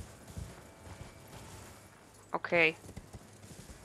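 Hooves clip-clop briefly from a mounted enemy in Elden Ring: Shadow of the Erdtree, a short burst under a quiet voice and game ambience.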